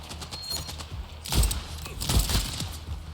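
Video game gunfire as a few sharp cracking bursts with clattering, mid-distance, over a steady low background hum, no speech.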